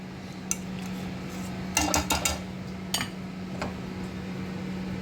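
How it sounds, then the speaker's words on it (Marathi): A utensil scrapes and clinks against a pan as pasta is stirred into white sauce, with a few scattered metallic taps and a short cluster of rattling knocks over a steady low hum. "पास्ता टाकून आपल्याला व्यवस्थित मिक्स करून घ्यायचा आहे."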